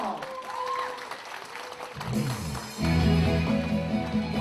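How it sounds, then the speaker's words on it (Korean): A hotel seminar audience applauds to welcome a trot singer onto the stage, clapping swelling after a host's voice and music, steady and fairly close. "박수 주세요."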